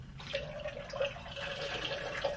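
Liquor poured from a bottle fitted with a pour spout into a metal tin during flair bartending practice, a steady close stream of liquid with a faint ringing tone.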